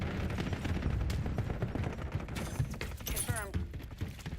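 Dense gunfire in the XDefiant online shooter cracks in rapid overlapping bursts throughout, loud and close, with game effects and voices mixed in.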